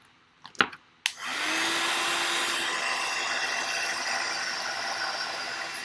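A heat tool used for heat setting in crafting starts with a couple of clicks, then roars into a steady, loud blowing whoosh with a faint whine that holds to the end.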